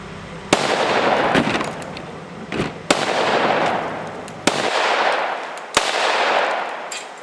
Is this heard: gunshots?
yes